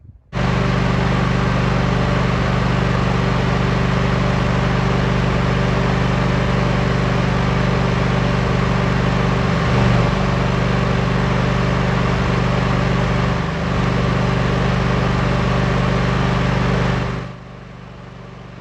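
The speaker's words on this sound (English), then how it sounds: "Now let's turn this engine on and see if it works." Replacement engine on a sawmill starting and running, a steady loud motor drone with a constant hum that holds for about seventeen seconds before cutting off abruptly.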